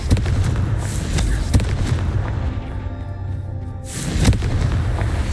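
A Confringo fire spell explosion in Hogwarts Legacy: loud, close booming blasts with sharp cracks near the start and another heavy burst toward the end over a rumbling game background.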